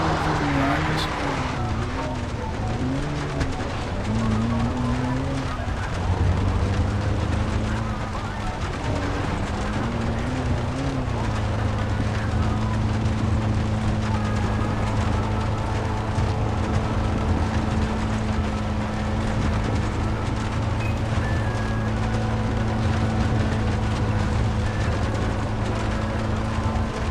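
Car engine droning steadily in Far Cry 3, a continuous in-game drive with a mid-low hum shifting pitch as the vehicle accelerates, loud and sustained throughout with game sounds layered over it.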